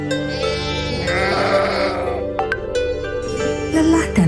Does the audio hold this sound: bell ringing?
no